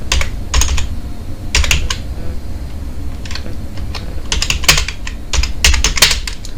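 Computer keyboard typing, loud and close, in irregular clusters of crisp key clicks spread across the whole stretch, with steady background hum and no talk.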